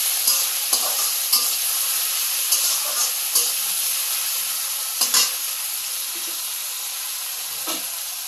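Oil sizzles steadily in a pan during breakfast cooking, a close, constant hiss broken by several sharp spatters and clinks from stirring.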